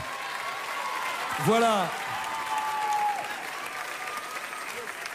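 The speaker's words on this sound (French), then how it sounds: "allez vous asseoir sous les applaudissements du public." A studio audience at a televised French talent show applauds in a continuous, even patter while a host speaks briefly over it.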